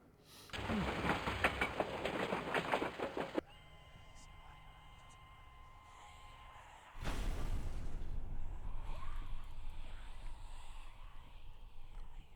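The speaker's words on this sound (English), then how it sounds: "There's a train coming out of here." A train rumbles past in the horror video game Layers of Fear, a loud broadband roar lasting a few seconds, then a quieter lull, then a second sustained rushing surge to the end.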